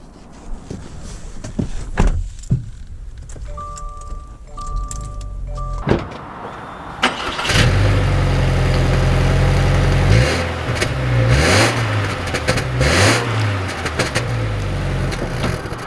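A 2020 Subaru Outback Limited with the 2.5-liter engine: clicks and a brief electric whir come first, then the engine starts and settles into a steady hum, rising and falling as the car pulls away and drives, close up with no talk.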